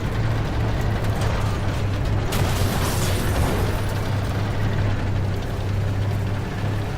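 Tank cannon fire and explosions in the video game Armored Warfare, with a T-54 tank in PVE missions, come as dense mechanical rattling and booming bursts over a constant low engine rumble.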